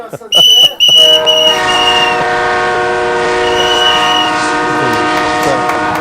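A loud, sustained train whistle blares close by, its bright chord of tones holding steady for several seconds after a few sharp opening blasts.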